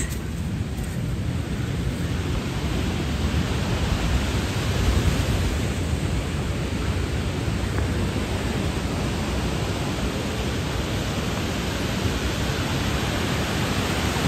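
Aras waterfall on Uludağ near Bursa rushes in a steady, dense roar of falling water that fills the whole stretch evenly, loud and unbroken with no voices.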